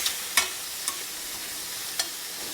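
Half-cooked prawns fry in a pan with a faint, steady sizzle, broken by a few sharp clicks and taps from stirring.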